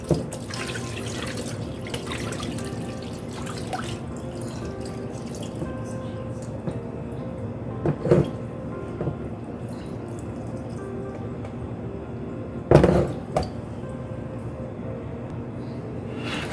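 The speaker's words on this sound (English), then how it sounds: "Now I'm going to drain the water." Hot water drains from pork into a kitchen sink during preparation of Haitian griot, a close trickling and dripping flow with a couple of sharper splashes and clunks partway through.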